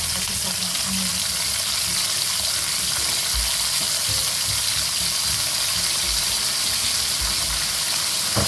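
Tuyo, dried fish, fries in a pan with a constant crackling sizzle and occasional soft low knocks, close up and uninterrupted.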